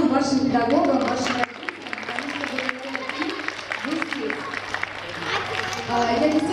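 An audience applauds at a children's art festival, a dense patter of clapping running beneath someone speaking to the young participants.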